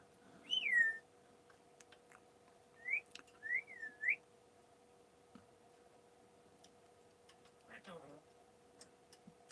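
Togo, a pet bird, gives a few short rising whistles, first one alone and then a quick cluster of three, followed by a brief chattering call, all over a steady low hum in a quiet room.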